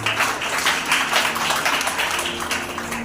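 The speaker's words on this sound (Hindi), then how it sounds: "ताली बजाएंगे प्रभु के लिए।" A church congregation claps for the Lord, steady loud applause from many hands filling the room, with a faint musical or voice tone underneath.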